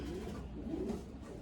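Racing pigeons coo softly and continuously in a loft at a racing compound, a low murmuring flock sound with overlapping calls and no pauses.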